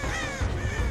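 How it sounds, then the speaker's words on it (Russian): A crow cawing in the Dead by Daylight video game, a harsh, rasping call held over a loud, dense game soundscape of low rumble and ambient noise. "ворона, брось отсюда"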